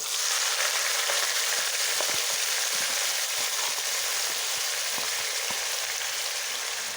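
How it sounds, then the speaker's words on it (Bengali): Chopped onion, garlic and sliced green chili hit hot oil in a pan for a dried fish and banana stem dish, giving a loud, steady sizzle with faint scrapes from stirring throughout and no voices. "এখন কেটে রাখা পেঁয়াজ কুচি, রসুন কুচি ও কাঁচা লঙ্কা ফালি দিয়ে দিচ্ছি।"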